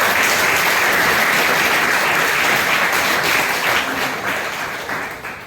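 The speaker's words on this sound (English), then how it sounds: "Give them a round of applause for the big round of applause" A student audience applauds presenters at an anatomy department seminar on the ankle joint, a dense, steady wash of many hands clapping close by, loud and sustained before tapering off toward the end.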